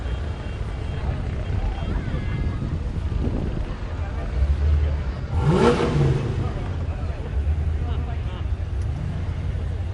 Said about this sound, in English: Still passing is the Antioch Classic Cars.